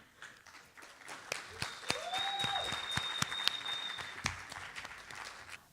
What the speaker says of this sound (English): giving a round of applause as she comes to the stage